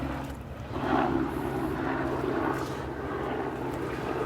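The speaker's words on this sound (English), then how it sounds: "Noisy helicopter in the background." A helicopter flies over a beach on a Sunday morning walk at Delnor-Wiggins, a continuous droning rotor and engine noise at moderate distance that stays steady throughout with no talking.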